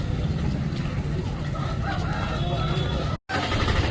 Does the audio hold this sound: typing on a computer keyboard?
no